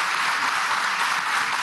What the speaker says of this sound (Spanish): Nuestro aplauso al estado Sucre.